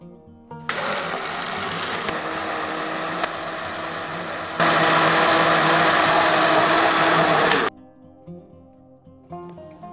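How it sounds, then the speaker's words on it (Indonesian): A loud blender whirs steadily for several seconds blending corn with water, jumping to a higher, stronger pitch partway through before cutting off abruptly. "Blender hingga lembut"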